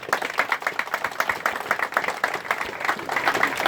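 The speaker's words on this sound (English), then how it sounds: "Please give them a big round of applause." An audience at the UK Recon G6 2019 gathering claps in a fast, even patter, a lively round of applause that keeps going throughout without speech.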